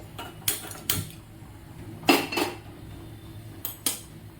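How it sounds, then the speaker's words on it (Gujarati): A nonstick kadai set down on a gas stove, giving several short metallic clanks and knocks spaced over a few seconds, close and fairly crisp. "સૌ પ્રથમ હું એક નોનસ્ટિક કઢાઈને ગેસ ઉપર આપણે મૂકીશું"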